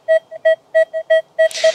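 Metal detector signal: a series of loud, clear electronic beeps in an uneven rhythm, some short and some held, ending in a burst of hissy noise.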